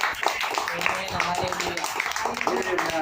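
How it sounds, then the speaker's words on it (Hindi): A church congregation clapping loudly together in thanks to the Lord, a dense, steady patter of many hands with voices talking over it. "आइए हम इस समय प्रभु को जोरदार तालियों से धन्यवाद देंगे।"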